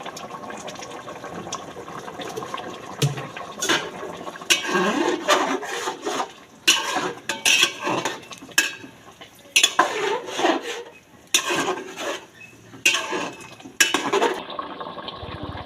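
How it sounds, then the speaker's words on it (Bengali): A spoon stirs roasted coriander-cumin spice into a pot of whole boiled vegetables, with irregular scraping and clinking against the pot, bursts separated by brief pauses, close and moderately loud. "তার সাথে ধনে জিরে ভাজা মশলা এই গোটা রান্নার সাথে মিশিয়ে দিলাম"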